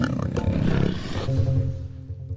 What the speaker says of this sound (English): I hear a leopard snarling in my ear.